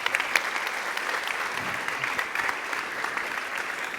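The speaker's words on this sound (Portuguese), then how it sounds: "uma salva de palmas para eles" An audience at the opening of a national sugar beet seminar in Brazil gives a round of applause, a steady, somewhat distant clapping from a large crowd that continues evenly without speech.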